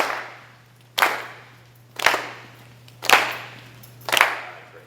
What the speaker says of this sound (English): And clap.